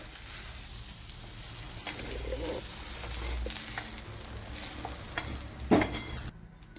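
Okra sautéing in a pan for a South Indian poriyal, a soft, steady sizzle with occasional stirring scrapes and a brief louder clatter near the end, no one talking.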